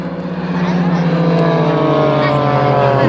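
Propeller-driven aerobatic airplanes of the Firebirds team perform at an air show in Jasionka, Poland, making a loud, steady, close engine drone with a strong harmonic hum that holds throughout.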